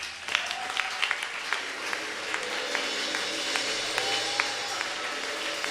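A church congregation applauds steadily, dense clapping with a few sharper claps standing out, moderately loud and sustained.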